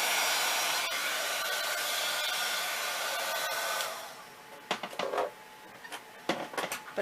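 A heat tool melts embossing powder on cardstock, giving a steady loud blower whoosh for about four seconds that then cuts off, followed by a few soft handling taps and rustles.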